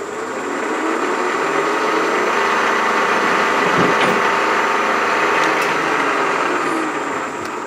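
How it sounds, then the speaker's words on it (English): Steady whine of a milling machine spot drilling, then drilling holes into a metal part for a rotary broach, continuous and fairly loud with a brief bump midway, no talking. "And we're gonna spot drill and then drill."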